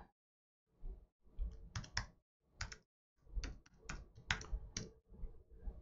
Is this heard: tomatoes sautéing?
no